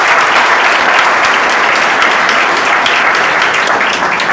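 Loud, dense applause from an audience at an event in Kushalgarh, Banswara, Rajasthan, sustained and steady throughout with no talk over it.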